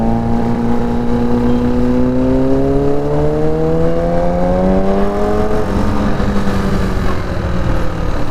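A Kawasaki ZX6R superbike engine revs steadily and loudly up close, pitch climbing through a long pull then dropping back, with a constant throaty drone underneath.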